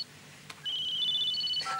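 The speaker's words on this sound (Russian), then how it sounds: "телефон звонит" Telephone ringing indoors in a Russian drama film, an electronic ringtone of steady high tones that starts after a short click and repeats in stepped pitches, fairly clear against a quiet room.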